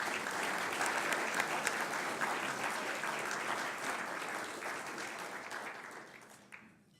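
Sustained room applause for the head table at a National Press Club luncheon, steady dense clapping from a large audience that tapers off at the end, with no voices over it.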